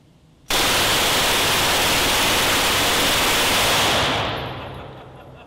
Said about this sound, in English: This is a World War II Russian Pepyshaw submachine gun,